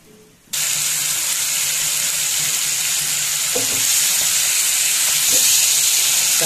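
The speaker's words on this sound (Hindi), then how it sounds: "चारों तरफ से अच्छे से फ्राई कर देंगे चिकन को।" Marinated Afghani chicken drops into a hot pan and erupts into a loud, steady frying hiss that holds for several seconds, with a few soft knocks of stirring.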